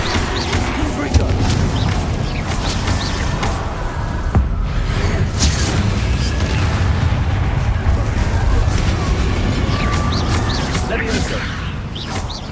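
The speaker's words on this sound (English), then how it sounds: "Confringo." A Confringo explosive spell goes off in Hogwarts Legacy, loud and dense, with rumbling blasts and crackling bursts layered over continuous game sound for the whole stretch.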